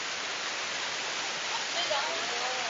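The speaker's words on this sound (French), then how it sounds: "cette pluie torrentielle qui tombe présentement sur Québec" Torrential rain pours down over Quebec in a dense, steady hiss that holds unbroken throughout, loud and enveloping.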